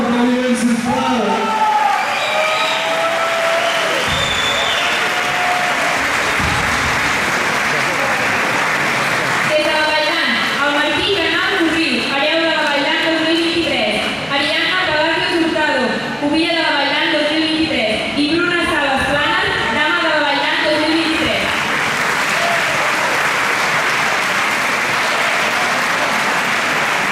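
A large audience at a Catalan proclamation ceremony for pubilles and hereus in Navàs claps loudly and steadily for nearly half a minute, with a few cheers and a voice briefly audible over the applause.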